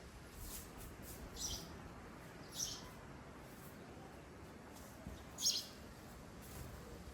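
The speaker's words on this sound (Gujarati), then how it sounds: "જો ચકલીઓ કેવી બોલે છે મસ્ત" Sparrows chirping outdoors in rainy-season weather, a few short, faint chirps spaced apart over a steady background hiss, somewhat distant.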